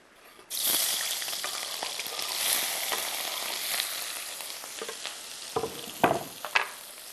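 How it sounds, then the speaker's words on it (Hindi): Cubed capsicum (bell pepper) stir-frying in a little oil makes a bright hissing sizzle that starts abruptly and holds steady up close. Toward the end, sharp spatula scrapes and clacks cut through it, with no voices. "ये थोड़े से ऑयल में हल्का सा स्टर फ्राई करेंगे यहाँ पर"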